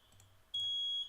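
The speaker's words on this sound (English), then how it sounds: "The fire alarm just went off." A fire alarm sounds indoors during a talk: a faint low hum, then from about halfway a loud, steady high-pitched electronic tone that holds unbroken to the end.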